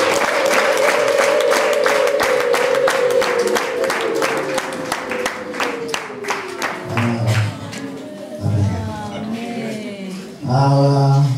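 Wedding guests in Rwanda clap steadily in rapid rhythm, with a sustained high wavering tone running over the clapping, before the applause thins out and scattered voices and cheers break in near the end.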